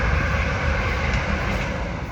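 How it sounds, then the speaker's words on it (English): A train rumbles past nearby an organic pig farm, a steady broadband roar with low rolling noise throughout, no voices. "That's the train."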